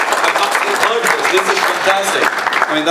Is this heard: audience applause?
yes